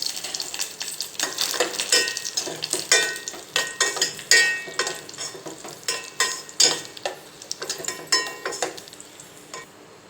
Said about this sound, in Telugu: నెయ్యి వేసుకొని ఇందులో కిస్మిస్లు కాజు మంచిగా వేయించుకుంటాను